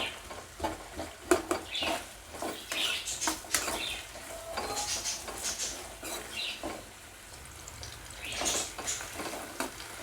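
Onions fry in a pan, giving a soft crackling sizzle broken by repeated stirring scrapes and light clatter at an uneven rhythm, close but moderately quiet with no voices.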